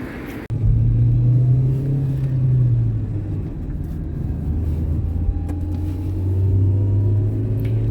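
Steady car engine rumble while driving along a city avenue, Prospect Nauky, starting abruptly after a click and holding a continuous low drone with shifting pitch as the car moves, no talk.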